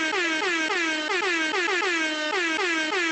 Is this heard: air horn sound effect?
yes